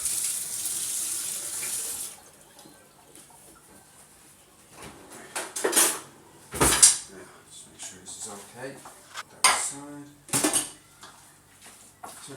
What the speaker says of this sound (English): So just give it a last mix and make sure at the bottom that it's all mixed in.